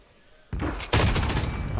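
Gunfire in Call of Duty during a 2v2 Gunfight match: after a quiet moment, a sharp shot breaks out, then a loud, rapid burst of automatic fire continues to the end.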